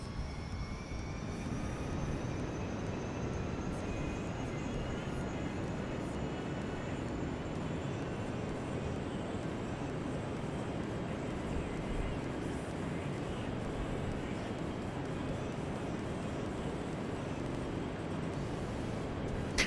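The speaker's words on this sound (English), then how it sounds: "let's give the throttle to the aircraft" A propeller aircraft's engine throttles up and holds a loud, steady drone with a rising whine in Kerbal Space Program, flying over a canyon on Kerbin, continuous and close throughout with no voices.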